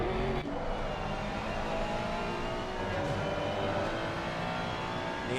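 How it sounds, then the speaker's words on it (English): A Porsche race car powers out of a hairpin during a pro-am circuit race at Zolder, its engine note climbing steadily, loud and close, with no other voices over it. "Motorsports team getting a good exit out of the hairpin. Porsche, so agile and nimble, able to take off like a rocket ship."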